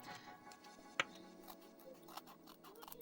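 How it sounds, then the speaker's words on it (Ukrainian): Quiet scissors cut a small paper triangle for a gnome ornament, giving one sharp snip followed by softer, faint clicks and rustles in a calm indoor setting. "Вирізаю трикутничок."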